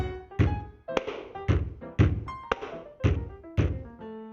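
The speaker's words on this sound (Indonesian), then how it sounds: "T artinya tepuk tangan. K artinya hentak kaki." A rhythmic beat pattern of hand claps and foot stomps plays as regular heavy thuds, roughly two per second, each followed by a short ringing tone, steady and unaccompanied by voices.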